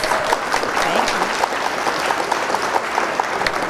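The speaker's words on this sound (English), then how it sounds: "We get a hand clap." Audience applause at a swearing-in of a district councilperson, steady hand clapping from a crowd that continues evenly throughout, fairly loud and close.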